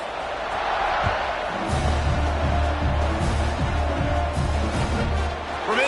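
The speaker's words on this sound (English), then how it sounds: "this crowd is buzzing after that last score" A football stadium crowd buzzes after a score, a dense, steady roar with scattered shouts that fills the whole stretch while an announcer's voice talks over it.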